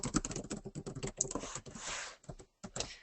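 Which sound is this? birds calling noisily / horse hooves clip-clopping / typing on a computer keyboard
typing on a computer keyboard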